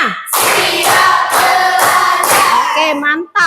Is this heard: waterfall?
no